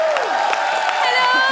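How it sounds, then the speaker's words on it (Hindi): A studio audience at The Kapil Sharma Show breaks into dense, continuous applause and cheering, with music playing underneath. "पर फिर भी ओके, रेडी? जोरदार तालियां एक बार।"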